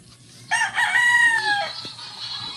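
A single loud rooster crow rings out nearby, rising and then trailing off, over faint background noise.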